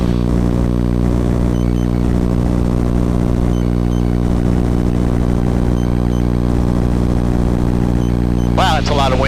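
Small airplane engine at full power during takeoff roll from runway 22, a loud steady droning hum filling the cabin without letup, with a brief burst of radio chatter near the end.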